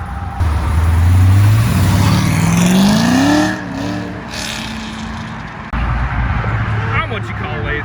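A black Corvette C6 Z06 with a choppy cam at a car meet blips its V8, a quick rev rising and falling over lumpy idle, loud and near, with crowd noise and voices around it.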